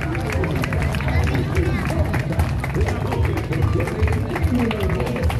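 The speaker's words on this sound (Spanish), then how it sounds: "los aplausos para el ballet Homero Banzi" Dense, sustained audience clapping and crowd hubbub for the Homero Manzi dance academy ballet at a patio folk show in Termas de Río Hondo, loud and continuous with voices mixed through it.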